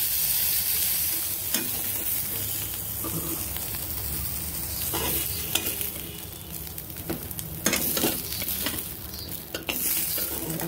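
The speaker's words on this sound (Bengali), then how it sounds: "এরকমভাবে মাংস ভাজবে।" Meat fries hard against the side of a wok, a loud continuous sizzle with scraping strokes and sharp spatula clanks scattered throughout, close up and without speech.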